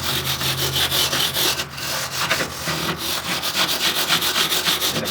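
A wire wheel grinds rust off the metal of an old hot rod, giving a harsh, rhythmic scraping that rises and falls in quick strokes, close and steady.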